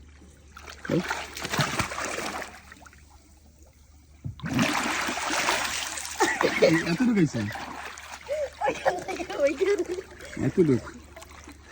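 In a swimming pool, a person dives and swims, producing bursts of splashing and sloshing water at close range, broken by a quieter pause and mixed with people talking.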